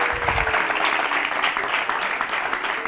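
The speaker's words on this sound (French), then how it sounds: "Je vous demande d'applaudir, non, pas applaudir, faire une ovation" An audience at a school awards ceremony gives a standing ovation for a student representing the Lumière school, with moderately loud, continuous clapping and a faint voice in the background.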